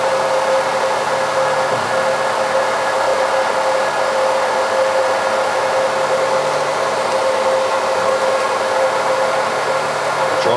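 A hair dryer blows steadily and close for about ten seconds, drying a freshly polished drip tip; a constant, even airflow roar with a faint motor whine and no talk.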